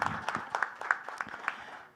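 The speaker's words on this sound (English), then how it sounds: "Let's give Mr. Prem a warm round of applause" Scattered clapping from an audience at a fintech conference panel, a brief, moderately faint round of applause with uneven individual claps.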